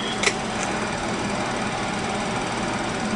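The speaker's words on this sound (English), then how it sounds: "it's just an alternator driven by my current supply, my power supply, and it drives the free resonator." A rotary alternator, driven by a bench power supply, runs steadily to drive a resonator in a water fuel cell setup, giving a continuous, even mechanical whir with one brief tick near the start and no talking.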